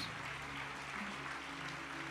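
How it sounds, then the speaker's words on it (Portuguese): Church congregation at a convention service applauds in a steady, moderately distant wash of clapping, with a low sustained musical drone beneath it and no talk. "E você aplauda o Senhor em nome de Jesus."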